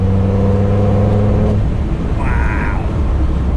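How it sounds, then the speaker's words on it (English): A Land Rover Defender Td5 diesel, returned to stock tuning, drones from inside the cabin with a steady low engine and exhaust hum that shifts in pitch partway through, over constant road and wind noise. "But hopefully you can hear that exhaust as well."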